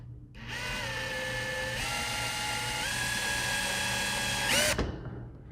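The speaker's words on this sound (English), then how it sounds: "you're going to drill all the way through to take the stress out of the crack" A drill bit grinds steadily through a cracked plastic windscreen washer reservoir from an Aston Martin, a loud continuous whine that shifts pitch a few times before cutting off sharply, with no talk.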